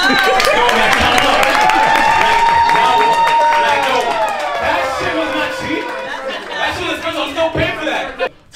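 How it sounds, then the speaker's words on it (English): A live comedy show audience cheers, chuckles and chatters in a crowded room, with scattered clapping rising early and thinning out toward the end. "clap it up"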